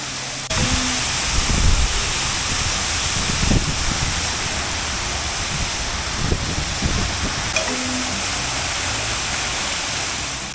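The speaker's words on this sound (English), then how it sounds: "as well as a small waterfall" A small waterfall in a shaded park spot above Nice, a steady, full rushing of falling water that stays constant throughout, close by and alone with no voices.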